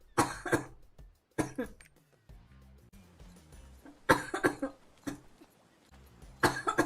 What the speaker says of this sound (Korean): 기침 많이 날 것 같아 지금.